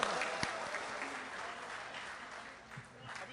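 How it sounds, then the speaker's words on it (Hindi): Audience applause at an Independence Day poetry gathering, a steady wash of clapping with crowd noise spread through the whole stretch, moderately loud and continuous, with a brief louder spike near the start. "तो एक बार सारे लोग मुझे तालियां बजाकर बताएं।"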